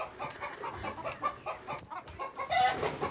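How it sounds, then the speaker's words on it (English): Chickens cluck close by in a farmyard, giving short, repeated bursts of throaty clucks in an uneven rhythm with no pause. "You go walk around and you see the chickens, Tilda?"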